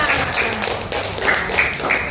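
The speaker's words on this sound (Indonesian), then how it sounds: "Tepuk tangan dulu untuk semua" A class of pupils clapping hands together for everyone, a steady dense patter of many small hands at close range, continuous throughout with some voices mixed in.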